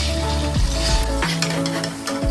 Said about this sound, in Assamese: কেৰাহী এখনত মিঠাতেল গৰম হ'বলৈ দিয়াৰ পিছত বৰকেইটা এনেদৰে ভাজি ল'লোঁ